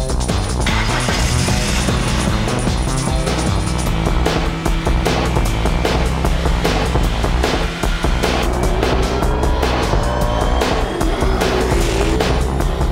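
A loud racing car engine roars and whines continuously at close range, revs rising and falling with mechanical rattling throughout.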